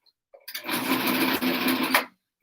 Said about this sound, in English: Sewing over it now.